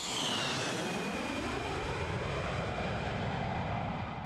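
Roar of an F-111 jet aircraft flying, a steady broadband engine rush that holds loud and even throughout, with a faint falling whine high above.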